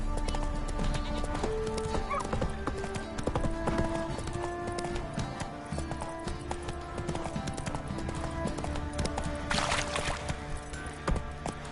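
Hooves of Roach, a horse in a video game, clip-clop steadily at a gallop for the whole stretch, with a whinny and game music and effects layered underneath.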